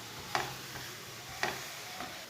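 A methi paratha cooking in oil on a pan gives a low continuous sizzle, broken by three short scraping knocks as it is turned and pressed.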